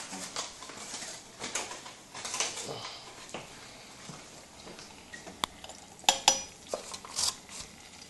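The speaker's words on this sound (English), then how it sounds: "I'm just making the white sauce with butter and plain flour." White sauce of butter and plain flour being stirred in a pan: soft, irregular scraping and clinks of a utensil against the pot, moderately faint, with a few sharper metallic knocks near the end.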